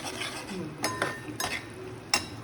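Semolina roasting in hot ghee for sooji halwa, a soft sizzle under a few quick clinks and scrapes of a spoon stirring in the pan.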